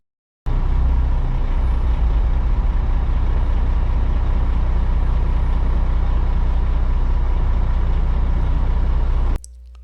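A dump truck raises its bed and unloads asphalt. A loud, steady diesel engine rumble starts abruptly and holds for about nine seconds, then cuts off sharply.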